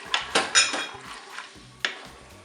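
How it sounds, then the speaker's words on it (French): Flour being stirred into milk in a pot for a crustless flan pâtissier, heard as a series of sharp utensil clinks and scrapes against the pot, close and fairly loud, with quieter scraping in between and no talk. "je vais commencer par incorporer ma farine. Voilà, je vais bien mélanger"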